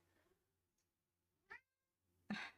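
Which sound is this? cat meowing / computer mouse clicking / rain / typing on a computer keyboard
cat meowing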